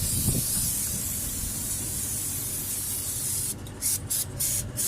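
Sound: spraying engine cleaner onto an engine

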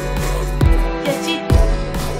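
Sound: harsh snare drum in a music production

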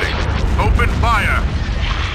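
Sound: space battle weapons fire in Star Wars: Empire at War video game

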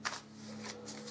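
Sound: shuffling tarot cards

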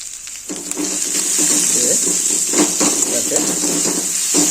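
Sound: chopped onion and green chilli frying in a pan

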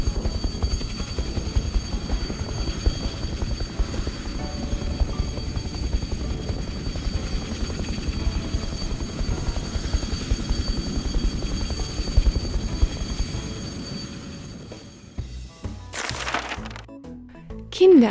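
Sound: cartoon heavy transport helicopter flying, carrying an airplane

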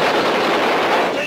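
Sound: gunfire after an order to fire

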